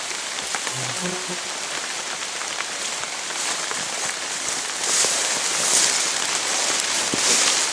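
Rain falling outdoors over a floodplain, a steady dense patter of drops on surfaces that grows somewhat louder toward the end.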